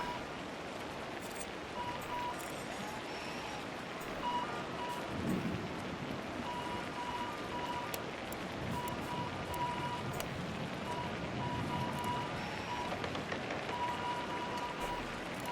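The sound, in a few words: rain falling in SimAirport video game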